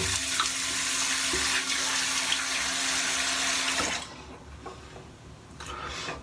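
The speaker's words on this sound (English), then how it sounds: "A bit of a splash of water on." Tap water runs steadily into a sink during a wet shave with a near wedge straight razor, a continuous close splashing hiss that stops abruptly about two-thirds through, leaving quieter room tone and a brief final trickle.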